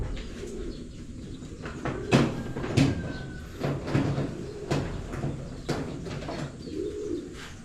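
Pigeons coo in a loft housing young birds, with repeated soft, throaty calls spread through the stretch, mixed with close knocks and rustles of birds moving about.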